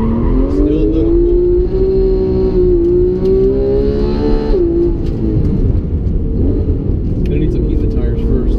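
A Porsche 911 GT3 drives a figure-eight skid pad on cold tires, its engine holding a loud, close, steady drone that climbs and dips slightly, with a faint tire squeal near the end.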